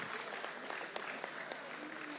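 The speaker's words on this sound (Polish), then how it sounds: "Big applause, please" Crowd applause at a karting event, continuous even clapping from a fairly distant audience, moderately loud and steady for the whole stretch.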